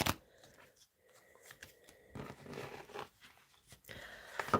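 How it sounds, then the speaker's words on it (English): Cards being shuffled several times for a tarot-style love reading, a run of soft papery riffles and crisp ruffles that come in bursts close to the mic, with quiet pauses between them. "let's have a few shuffles"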